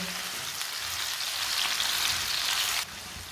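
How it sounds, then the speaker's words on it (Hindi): Onions fry in very hot oil on a stove, a close, steady crackling sizzle that drops suddenly in level near the end, with no voices. "ऑयल बहुत गर्म था ना, चूल्हे की आंच को थोड़ा सा कम कर लेना, नहीं तो प्याज जल जाएंगे।"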